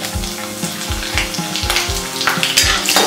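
Mustard seeds, cumin and finely chopped green chilies fry in hot oil, giving a steady close sizzle broken by sharp popping crackles and bursts in a loose rhythm as the seeds splutter.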